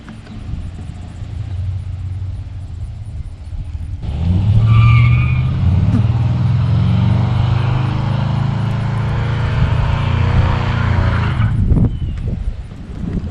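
A ten-second drag truck with a hard-worked transmission launches down the strip, a quiet idle suddenly swelling into a loud, sustained roaring rumble that carries for about seven seconds before dropping off.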